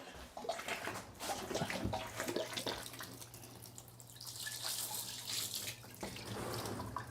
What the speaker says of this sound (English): Rinse this shower off.